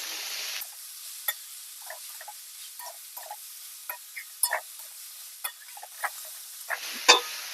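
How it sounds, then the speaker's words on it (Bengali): Spice-coated small river fish and mixed vegetables fry in a pan with a soft sizzling hiss, while a spatula scrapes and taps in irregular strokes close by. "এবারে সবগুলো ভালো করে কষিয়ে নেব"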